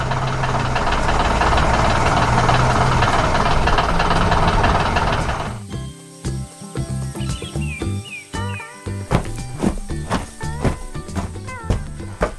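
Cartoon machine engines chug and knock loudly in a busy animated city for several seconds, then give way to sparser clanks, tonal cues and chirping bird-like sounds.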